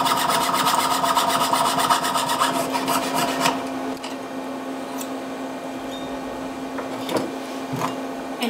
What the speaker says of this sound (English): So I'm going to saw open the back.